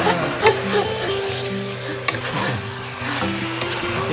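Beef stir-fried in a hot pan for Vietnamese bò kho, a loud, close, continuous sizzle with scraping stirring strokes and a couple of sharp clinks of utensil against pan.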